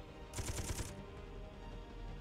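Cannons fire in the Space Engineers video game: a quick burst of about six rapid, loud shots, then a steady low rumble of background game noise.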